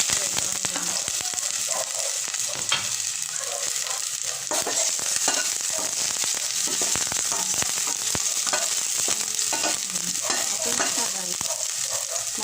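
Garlic sizzles and crackles in a little hot oil in a pan, a continuous close frying hiss broken by scrapes and clicks of stirring, with no one talking over it.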